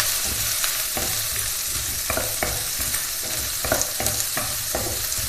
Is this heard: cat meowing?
no